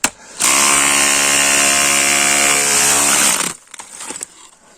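A WORCRAFT CRH S20LiT cordless battery rotary hammer drill runs loud and close in one steady burst of about three seconds with a strong whining, buzzing motor tone. It stops abruptly, leaving a few quieter handling noises.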